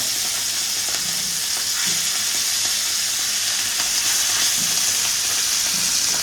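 Fresh kalite fish frying in hot oil, a loud, even, unbroken sizzle with faint bubbling and no voices.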